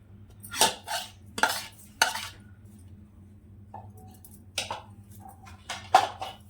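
A creamy fresh coconut ice cream mixture is transferred into a glass bowl, giving a few sharp clinks and scrapes of a utensil against glass in separate bursts, with quiet pauses between and no talking.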